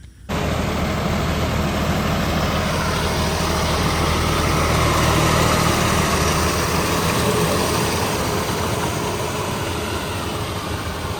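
A tractor engine idles nearby, a constant low rumbling drone that holds steady throughout after a brief quiet start.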